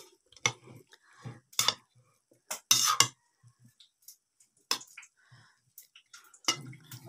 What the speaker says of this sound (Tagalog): At ang ating bagoong. 3 kutsara o 2 kutsara mga guys. Ayan. At atin na pong haluin.